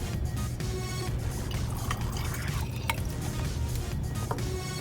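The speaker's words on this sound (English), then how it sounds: "we're going to add about 100 milliliters of hydrogen peroxide to this concoction of dish soap, water, and potassium iodide" Hydrogen peroxide pours and splashes into a solution of dish soap, water and potassium iodide, with trickling and dripping sounds, close up, with a low background hum and no talk.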